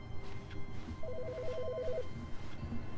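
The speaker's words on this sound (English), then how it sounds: "Oh, it's the phone." A telephone rings in The Stanley Parable: Ultra Deluxe video game, one rapid warbling trill burst lasting about a second over a quiet room-tone background, fairly soft.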